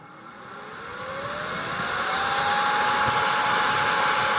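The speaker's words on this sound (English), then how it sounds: "So let's power it on and see what happens. It's going to get really loud real quick," A Futurebit Apollo II cryptocurrency miner powers on, its cooling fans spinning up into a loud, steady rushing whine that climbs in pitch and volume over several seconds, close and with no talk.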